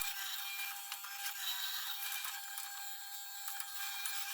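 A bit boring a 100 mm deep, 12 mm wide socket into wood for a workbench leg vise gives a continuous, fairly quiet grinding whir with slight rasping fluctuations, steady and alone without speech.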